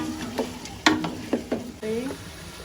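Mutton sizzles in a pan with ginger garlic paste while a utensil scrapes and stirs in occasional strokes, close up with a steady frying hiss underneath.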